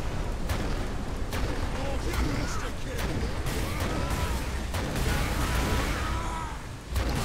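Vengeance Launcher rounds detonating in Warhammer 40,000: Space Marine, a dense, continuous rumble of heavy explosions with sharp blast transients at intervals, loud and sustained, with speech mixed underneath.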